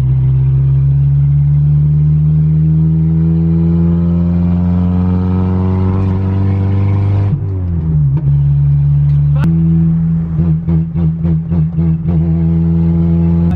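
A repaired beater car engine idles steadily, then revs up sharply several times in quick bursts, loud and close.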